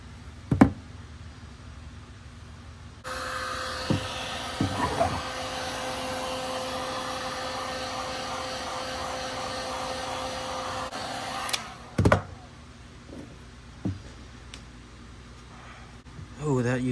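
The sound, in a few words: heat gun heating boat hoses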